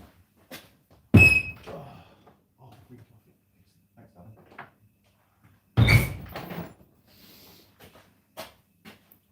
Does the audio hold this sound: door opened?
yes